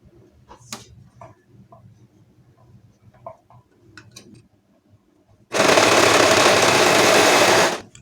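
A sewing machine runs a long continuous stitching burst through a seam on a high-waisted panty, loud and close, after a stretch of quiet handling and rustling of fabric.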